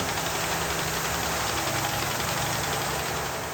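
A river cargo boat's engine drones loudly and continuously at close range, with a dense mechanical rumble and steady chugging that never lets up.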